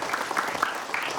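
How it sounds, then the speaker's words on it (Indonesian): Lively applause from an audience of women at a Malay pantun (rhyming verse) exchange, a brief burst of dense, steady clapping with no voices over it. "Tepuk tangan yang meriah sekali lagi."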